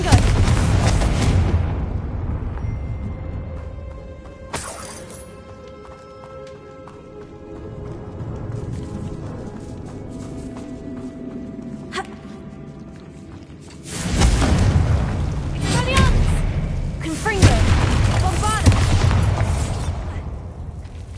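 Confringo spell explosions in the video game Hogwarts Legacy: repeated loud, heavy booms and blasts in separate bursts, with quieter rumbling game ambience between them and a dense cluster of impacts toward the end.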